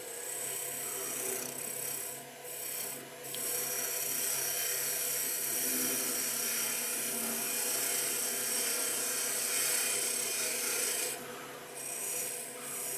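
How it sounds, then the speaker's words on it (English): A parting tool cuts a spigot on wood spinning on a lathe, producing a continuous close rasping, scraping hiss with slight dips and swells over the steady hum of the machine, without talk. "So if I go back to my parting tool now, we can start at the bottom."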